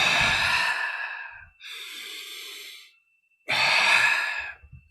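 Deep breath demonstration with the chest puffed out: a long, loud close-up inhale, a softer exhale, a brief silence, then another strong inhale.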